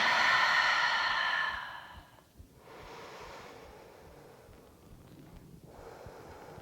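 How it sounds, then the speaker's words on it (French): A deep breath drawn in through the nose and let out through the mouth during a guided breathing pause, a strong close airy exhale at first, then quieter breathing that fades to near silence. "Prends une grande inspiration par le nez. Ouvre la bouche, expire."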